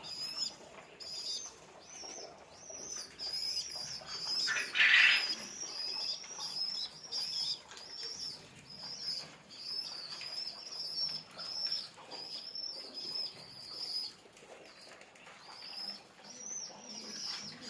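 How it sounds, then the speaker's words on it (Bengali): A pair of pigeons, with one sudden burst of wing flapping near the middle, over a quiet background of soft bird chirps and calls. "ওইখানেও এক জোড়া খুবই সুন্দর কবুতর আছে"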